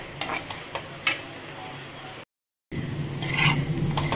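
Gourd peel frying with peanuts, poppy seeds and sesame gives a close, steady sizzle with scraping stirs. The sound cuts out for a moment, then comes back louder.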